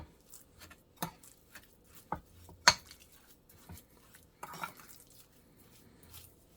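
Seasoned ground turkey being mixed by hand in a bowl for smash burgers: soft squelching with scattered clinks and taps against the bowl, one sharper knock midway, quiet and close with no talking.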